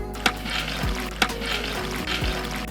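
Soft sizzling of masala with dried fenugreek leaves in a hot pan over low heat, for Tadipatri biryani, with a spoon scraping and stirring at intervals, a few light clinks, no talking.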